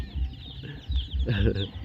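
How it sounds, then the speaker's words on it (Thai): An old chicken clucks close by at a village home in a few short bursts, with faint voices in the background. "ไก่หลายปีไก่แก่เลย"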